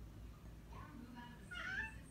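A house cat meows twice indoors, a short faint call followed by a louder, longer rising one, over a low background hum.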